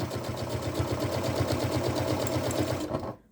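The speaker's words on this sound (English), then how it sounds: "And then I'll just kind of shove the canvas in and then continue sewing." Sewing machine stitching webbing onto canvas, a fast, even run of mechanical stitching pulses at close range that stops abruptly near the end.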